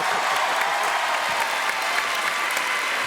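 Steady, dense applause from a television studio audience greeting guest Pierre Bellemare, a continuous bright clatter of many hands at full volume without letup.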